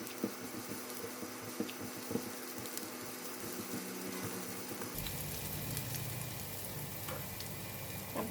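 Garlic and chili sizzle in hot cooking oil for a fried squid dish, a faint steady frying hiss with occasional small pops, growing brighter and denser midway when more ingredients go in.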